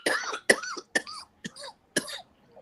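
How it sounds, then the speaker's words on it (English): A person coughs close to the microphone in five sharp bursts spaced about half a second apart, each harsh and throaty like a hard clearing of the throat. "Who was that coughing on the camera like that?"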